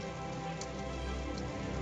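Heavy rain pouring down steadily during a Midwest thunderstorm, a dense, even hiss with no pauses.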